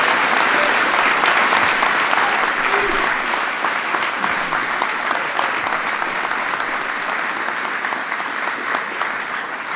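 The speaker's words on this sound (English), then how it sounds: "Give him a big round of applause." A large audience honoring a Villanova Wildcats basketball player, the 2016 NCAA champions, breaks into sustained loud applause that stays dense and steady, slowly tapering toward the end.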